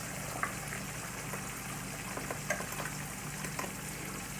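Gnocchi go into a pot of boiling water, which gives a constant soft bubbling hiss with a few small splashes and clinks. The sound is quiet and close.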